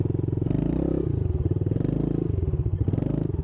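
A 2015 Yamaha TTR 110 pit bike being ridden, its small single-cylinder engine putting out a close, steady, buzzing putter that rises and falls with the throttle, plus some clattering.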